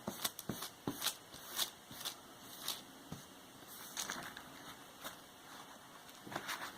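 Coffee-soaked absorbent paper wiped over a paper sheet being aged, giving a series of soft, close rubbing and crackling swipes in an uneven rhythm, with no talking.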